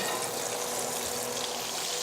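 Steak sizzles steadily in a hot pan, a continuous broadband hiss of frying fat that holds even and fairly loud throughout with no talking.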